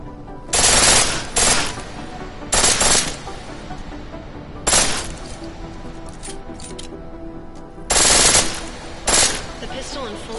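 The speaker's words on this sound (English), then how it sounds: "The pistol in full auto will take down targets fast, but it'll burn through your ammo" Pistol set to full auto in the video game Deus Ex: Mankind Divided, fired in five short, loud rapid bursts separated by pauses, with faint shell clinks and low ambience between volleys.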